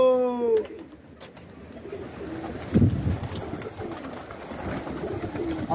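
Low, soft pigeon cooing rumbles in the background, fairly faint under steady ambient noise, with a brief rising whistle-like call at the start.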